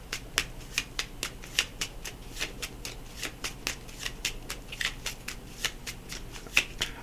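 Crisp, rhythmic riffling and snapping of a tarot deck being shuffled, close and fairly quiet, with regular bursts repeating throughout and no voices.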